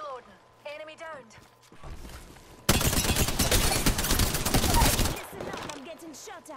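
Dense, sustained gunfire from an Apex Legends match erupts midway and rattles on for about two and a half seconds, loud and continuous, with brief speech-like sounds before and after it.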